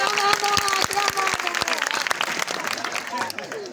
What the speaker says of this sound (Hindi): अरे यार भैया ताली तो बजा